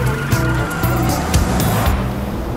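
A rough, rumbling engine of an old, beat-up car spewing black smoke, running steadily nearby, with a low, uneven chug and some rattling noise.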